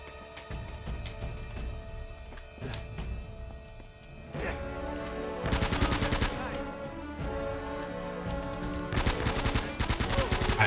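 Gunshots in the PS3 action game Uncharted, with scattered single shots early on giving way to dense bursts of rapid fire, moderately loud over layered game music and effects.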